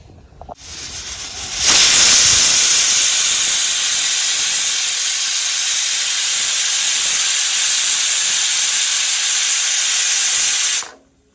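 A pressure cooker on a gas stove, cooking khichuri with sweet pumpkin, lets out a loud, steady whistle of escaping steam. The hiss starts abruptly, holds strongly for about nine seconds, then cuts off sharply.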